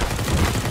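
A rapid burst of automatic gunfire in the shooter game CS:GO, dense and loud, filling the whole short moment without any voices.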